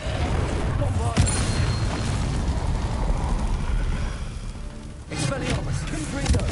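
A Bombarda blasting spell from Hogwarts Legacy goes off as a booming explosion over dense, rumbling game noise. A sharp burst comes early and another heavy blast lands near the end.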